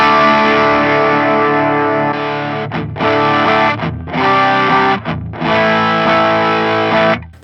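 Electric guitar played through an Axe-Fx III modelling a Fulltone Full-Drive 2 overdrive, loud and close: thick distorted chords that are sustained, then choked off in short rhythmic breaks, with no voices.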